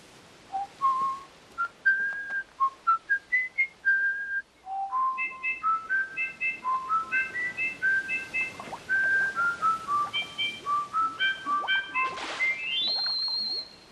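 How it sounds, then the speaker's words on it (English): A long run of melodic whistling, quick rising and falling notes with short trills, ending on a high sustained note. "A fish that can whistle."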